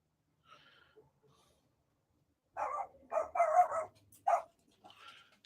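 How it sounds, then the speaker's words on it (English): A dog barks indoors, several short close barks in a quick cluster after a quiet stretch with faint snorting breaths. "Sorry, I'm texting my dog, telling him to be quiet."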